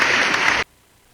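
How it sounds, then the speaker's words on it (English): A canned applause sound effect cued by a talk-show host: a burst of dense clapping that cuts off abruptly after about half a second, then near silence. "Let me see if I can cue this clap up again"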